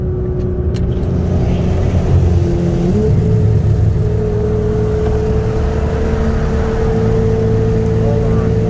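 A 2016 BMW M4 and a 2017 Nissan GT-R, both on E85 fuel, run a 60 mph roll race, with a steady engine drone and a rising tone as one car accelerates, fairly loud and continuous.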